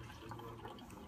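Liquid pours from an automatic drink dispenser into a cup, a soft continuous trickle and splash heard faintly and steadily throughout.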